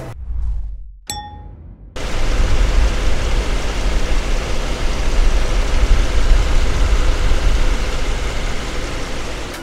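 A Genesis G80 engine with just over 100,000 km runs steadily at idle, a low continuous rumble that fills most of the clip after a brief metallic ding near the start.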